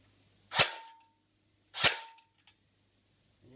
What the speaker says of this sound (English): first up is the M4 with the semi mode. Here it goes.